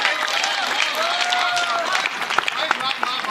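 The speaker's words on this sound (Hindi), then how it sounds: "इनके लिए जोरदार तालियां बजा दी" A kavi sammelan comedy audience bursts into loud, dense applause for a doctor, sustained clapping from a large crowd with voices mixed in beneath it.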